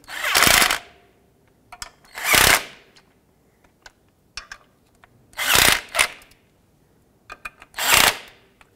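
Power tool bursts snugging bolts on a clutch pressure plate during a 2006-2011 Honda Civic clutch replacement: four loud whirring runs of under a second each, separated by quiet gaps filled with small metallic clicks and taps.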